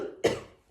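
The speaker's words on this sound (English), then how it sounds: "I'm so sorry about the cough." A person gives a single short, sharp cough, close and fairly quiet, decaying quickly into near silence.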